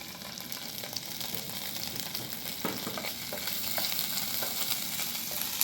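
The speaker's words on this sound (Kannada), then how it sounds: "ಬೆಣ್ಣೆ ಕರಗಿದೆ. ಶುಂಠಿ ಬೆಳ್ಳುಳ್ಳಿ ಪೇಸ್ಟ್ ಹಾಕ್ಕೋಬೇಕು." Ginger garlic paste frying in melted butter in a pan, giving a steady, close crackling sizzle with faint stirring scrapes that grows slightly louder toward the end, with no voices.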